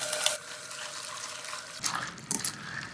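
Washing water poured off rinsed star anise, Sichuan peppercorns and fennel seeds into a sieve bowl: a short splash at the start, a quiet pause, then a few brief trickling pours and splashes, close and moderate.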